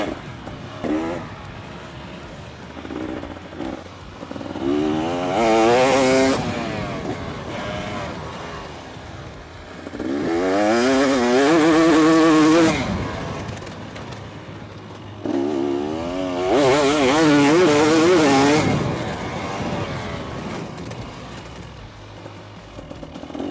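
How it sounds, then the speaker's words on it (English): A motocross bike power slides through corners, its engine revving up in three long, rising passes as it swings closer and louder, then fading away between runs. "where we're going to start to learn about that power slide, getting the bike to hang out a little bit"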